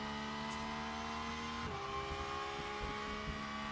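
A Porsche GT3 race car in the Le Mans Ultimate racing game, its engine droning steadily and loud throughout, with a drop in pitch partway as it shifts or lifts off, and no talking.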